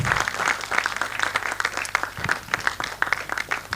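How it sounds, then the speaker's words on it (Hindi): An audience claps steadily through a trophy presentation for guests on stage, the applause brisk and crisp with distinct individual hand claps, close and continuous with no talking over it. "तालियां बज जाए आप लोगों की तरफ से भी।"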